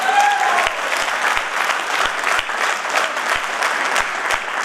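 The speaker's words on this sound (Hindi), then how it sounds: "वाह, जोरदार तालियां सबके लिए" Seminar audience claps steadily throughout, a dense sustained applause that fills the hall at an even loudness, with a brief voice at the very start.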